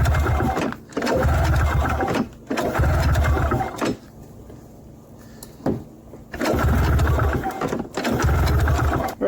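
A 1994 Yamaha VX500 VMAX snowmobile engine cranks after a dose of starter fluid, giving loud, rapid chugging bursts of a few seconds each with short pauses between, close by and without catching into a steady run.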